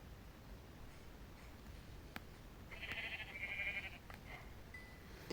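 Sheep bleating in a survival video game: one wavering bleat rises mid-clip, fairly faint, over a steady game background hiss with a few soft clicks.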